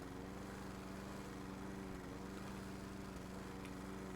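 A lawn mower engine from a lawnmower video game drones in a steady, unbroken hum, quiet and even throughout with no voices over it.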